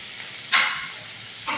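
Pieces of a local freshwater fish dropped into hot oil in a pan, giving two short bursts of sizzling hiss, the first louder, over a quiet background.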